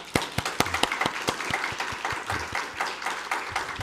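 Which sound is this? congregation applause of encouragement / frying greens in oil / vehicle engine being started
congregation applause of encouragement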